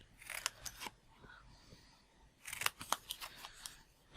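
Scissors snipping paper while crafting with an embossing folder: two quick bursts of crisp, close cuts separated by a quiet pause, fairly faint, with no voices.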